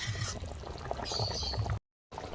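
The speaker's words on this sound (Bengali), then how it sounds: "আলু সেদ্ধ হয়ে গেছে ভেজে রাখা বড়া দিয়ে দেব" Fried green plantain fritters go into a simmering curry of boiled potatoes, making a close, steady wet slosh and bubble of liquid that cuts out briefly near the end.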